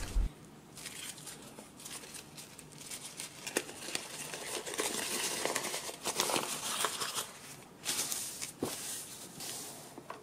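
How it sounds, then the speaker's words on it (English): Coffee-stained paper is crumpled by hand in a steady run of close crinkling and crackling, with a few sharper crackles. "I also tried crumpling and ironing some of it as well, just to give it a crinkly look."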